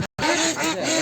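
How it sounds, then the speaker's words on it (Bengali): Khaki Campbell and Indian Runner ducks give a short burst of loud, nasal quacking close by, broken by a brief gap near the start. "যে হাঁসগুলো দেখছেন এগুলো কাই ক্যাম্পেল এবং জিন্দি। সাদাটা হচ্ছে ইন্ডিয়ান রানা"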